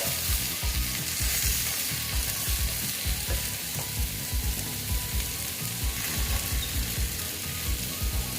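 Drumsticks (moringa pods) frying in a pan, a dense continuous sizzle and crackle with steady stirring scrapes, close and loud throughout.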